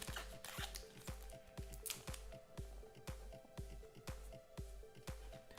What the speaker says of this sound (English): That's why I'm using the scissors on these.